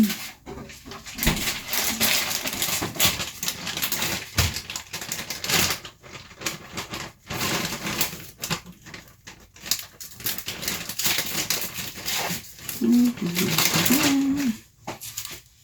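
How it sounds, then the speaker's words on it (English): A knife chops an onion on a cutting board while making Instant Pot BBQ chicken: rapid, close, irregular tapping strokes that continue throughout, with short pauses between bursts. "So I'm going to take this onion and cut it up."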